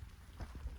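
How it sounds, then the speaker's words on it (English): Steady rain falls during a day out in the mountains, a soft, even patter with low rumbling wind across the whole moment and no voices. "Sorry about the rain."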